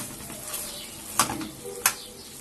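Pieces of meat for homemade shawarma fry in hot oil with a constant sizzling hiss, broken by two sharp utensil clinks against the pan; no voices.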